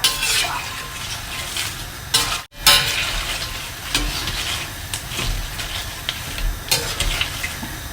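Banana slices frying in boiling oil for sugar-coated chips, a continuous close sizzle with scattered clinks and stirring scrapes of a utensil against the pan, with a brief break partway through.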